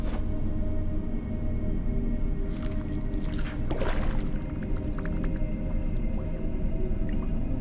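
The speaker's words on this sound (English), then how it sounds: "I have to place the lungs in a container of water and wait to see if they fall or if they will float on the surface." Lungs placed into a container of water in the Autopsy Simulator video game make a wet squish and splash, with watery sloshing mid-clip over a constant low background hum.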